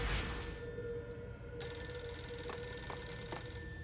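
A telephone rings in the PS2 video game Max Payne, a steady electronic ring tone with short repeated pulses near the end over a low background hum.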